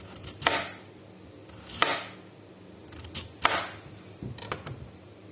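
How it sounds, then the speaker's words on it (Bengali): A knife chops radish and other vegetables on a board, about five sharp, irregularly spaced strikes, some in quick pairs, close and clear with no talking. "আমি পুরো মূলা কাইটা শেষ করি, সবজিগুলো কাইটা শেষ করি"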